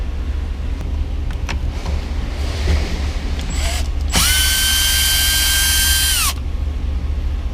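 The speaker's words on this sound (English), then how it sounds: "Got a cordless screwdriver here." A cordless screwdriver whirs in one sustained burst, loud and close, backing screws out of a Honda Civic Type-R steering wheel, with a few small clicks and handling noises before it.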